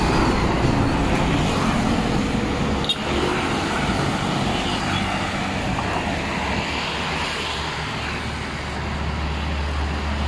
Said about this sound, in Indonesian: Trailer nih guys.